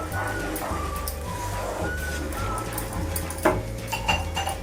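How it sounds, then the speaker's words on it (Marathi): Sugar stirred continuously in a metal pan to make bura sugar, with steady scraping and rubbing of a spoon against the pan and a few louder clinks near the end, close and without talk. "आता आपल्याला सतत असं ढवळत राहायचं आहे"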